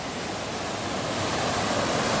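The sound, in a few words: water swirling at dam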